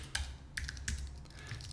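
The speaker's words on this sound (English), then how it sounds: "we're going to check on it by typing in" Quick, close typing on a computer keyboard, with several crisp clustered keystrokes in a short burst, fairly quiet and with no one speaking.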